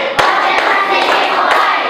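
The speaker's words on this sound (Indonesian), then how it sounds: "Tepuk 4 kali." A group claps in unison during a class warm-up: four sharp, evenly spaced claps ring out over a steady background hiss, with no voices.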